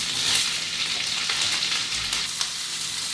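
Half an onion fries over medium heat with mustard seed in a pan, giving a dense, steady sizzle with small crackles and a faint stirring scrape, close up and with no voices.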